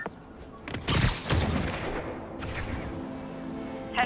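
Gunfire aimed at a police vehicle in Marvel's Spider-Man: a cluster of sharp shots and a heavy burst about a second in, then a lighter crack later, over a low city ambience.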